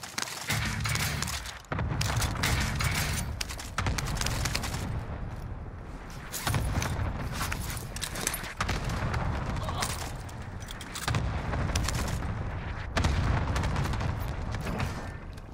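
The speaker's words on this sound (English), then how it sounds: "Allied cluster strike arriving" Repeated heavy explosions from a cluster airstrike in Call of Duty: Modern Warfare rumble in loud successive waves, each blast booming and rolling over the next with brief dips between impacts.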